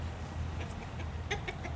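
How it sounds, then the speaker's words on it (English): A chicken near a pole barn gives a few short clucks in quick succession, fairly close, over a steady low background hum. "No, leave the chicken alone."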